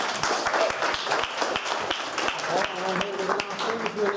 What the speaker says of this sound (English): Should we give it a round of applause for Bailey?